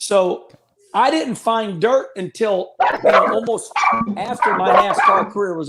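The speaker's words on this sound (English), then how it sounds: "The dogs are barking over there" Dogs bark in the background, close enough to be heard clearly, with a few sharp yips under someone talking steadily throughout.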